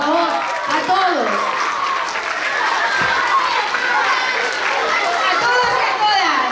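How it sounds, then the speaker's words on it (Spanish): A Got Talent 2023 audience claps and cheers loudly and steadily, with voices calling out over the applause throughout. "Un aplauso a todos, por favor, a todos."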